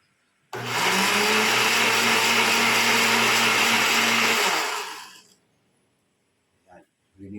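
A loud blender purées boiled jackfruit for jam, whirring steadily for about four seconds, then winds down and stops, followed by a couple of brief soft sounds.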